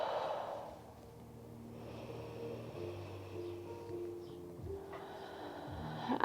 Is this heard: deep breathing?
yes